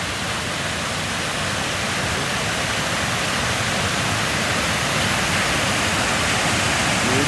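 A small waterfall along a hiking trail roars in a dense, steady rush of falling water, close and unbroken throughout.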